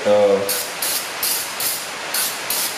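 Brake parts cleaner sprays onto a clutch pressure plate and flywheel in a series of about five short, loud hissing bursts at an even pace, following a brief spoken voice at the start.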